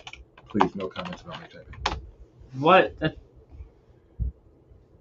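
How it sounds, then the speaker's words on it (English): Quick bursts of typing on a computer keyboard during a live trivia show, light clattering keystrokes in short runs interleaved with a person speaking. "Please, no comments about my typing."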